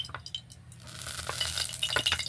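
Mustard oil poured into a kadai on a lit stove, a few soft clinks first, then a steady hissing, trickling wash of sound that keeps going close by.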